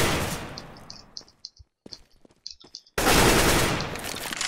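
Gunfire in Counter-Strike: Global Offensive, with loud bursts of rapid automatic fire at the start and end framing a quieter middle of scattered single shots and metallic clicks, all close and sharp.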